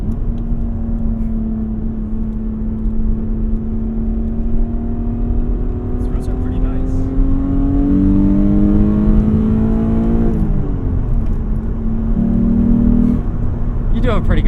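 Base-model 1996 Mitsubishi 3000 GT engine pulling hard under acceleration, a loud steady induction drone with rising harmonics and a brief shift dip, heard from inside the car with people talking over it.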